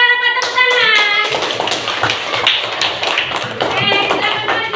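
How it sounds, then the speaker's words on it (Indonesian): Children clapping hands in a classroom during a civics lesson, a dense run of quick, loud claps mixed with bright, sustained children's voices and chatter throughout. "ada apa tepuk tangan?"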